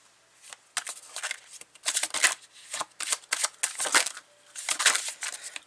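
Tarot cards are shuffled in quick repeated bursts, a crisp riffling and flapping close by with short pauses between rounds, no voices.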